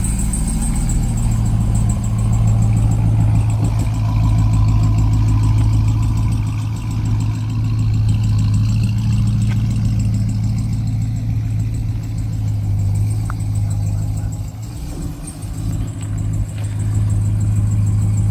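A 2024 Ram TRX pickup truck idles outside in the sun, a steady deep engine rumble holding nearly constant throughout with a slight dip near the end, no talking over it.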